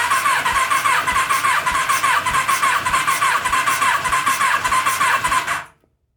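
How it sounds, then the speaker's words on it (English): An electric starter cranks an engine during a compression test on cylinder one, a loud, rapid, even churning with a whining squeal over it, running steadily for about five and a half seconds before cutting off abruptly into silence. "So compression test, cylinder one, here goes."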